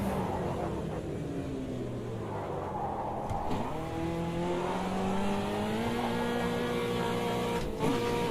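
A racing car engine in a video game, its back end slipping as it rotates through a corner over the curbing. It gives a steady, loud, tonal drone that shifts and climbs in pitch as the revs change, with no talk.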